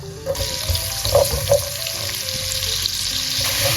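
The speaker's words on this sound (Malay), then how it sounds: "First, kita tumis bawang putih dengan bawang merah." Garlic and shallots sautéed in oil in a pan for beef fried rice, sizzling and crackling steadily up close with a few stirring scrapes and clinks.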